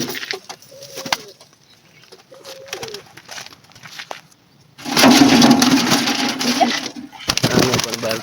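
Pigeons in a coop coo softly a few times before being let out. A sudden loud, rustling flurry of wings and movement follows and lasts a couple of seconds.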